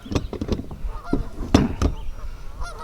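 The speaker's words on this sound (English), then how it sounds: "them geese sure know how to make a ruckus" Geese honking near a kayak on a windy day, a close, loud series of repeated harsh honks in irregular bursts, with no talk over them.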